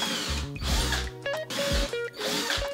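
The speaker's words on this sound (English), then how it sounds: "just put some duct tape on the drill bit" A power drill with duct tape on the bit bores into a wooden desk top, whirring in short bursts that rise and fall in pitch with brief pauses, close and loud.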